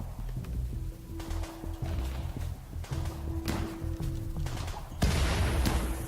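A turret exploding in RimWorld amid combat: rumbling bursts and sharp impacts over a continuous background, ending in a louder broadband blast.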